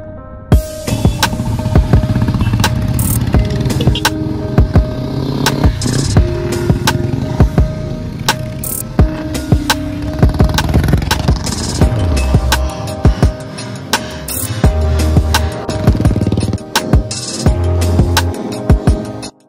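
A line-up of Royal Enfield motorcycles, including an old full red oxide model, gathered for an Independence Day group ride to Kappatagudda, their engines starting and idling together in a steady, dense throbbing rumble with occasional revs.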